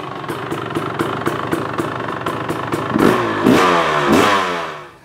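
A motorcycle engine runs steadily with a rapid pulsing beat, then is revved up in three rising surges, loud and close, before dropping off at the end.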